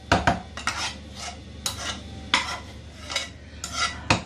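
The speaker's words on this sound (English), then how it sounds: "Add your swede to your mash. And mix it all up together." A spoon scrapes and clanks against a pan while swede is stirred into mash, a string of irregular metallic knocks and rasping strokes close by, with no talking.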